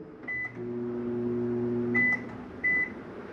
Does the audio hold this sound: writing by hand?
no